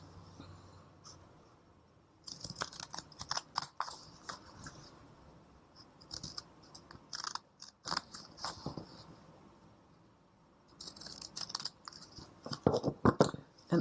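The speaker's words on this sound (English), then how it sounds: "So I'm going to cut that out." Scissors cutting through paper for a woven paper heart craft: close, uneven bursts of snipping and rustling separated by short quiet pauses, with no voices.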